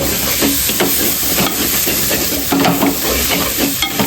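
Chicken masala sizzles and hisses steadily in a covered pan, a loud close frying crackle with faint stirring scrapes and no talk.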